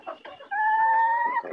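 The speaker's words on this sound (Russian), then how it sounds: "Красивый петух." A rooster lets out a single sustained crow, loud and close, framed by a few short clucks just before and after.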